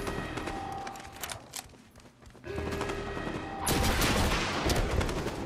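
Gunfire in Fortnite, bursts of rapid shots in quick succession, growing louder and denser toward the end, with sharp close cracks under game sounds.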